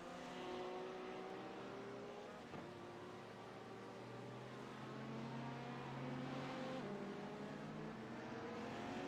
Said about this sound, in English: you can start to see some of your LMP2 traffic starting to make their way out of pit road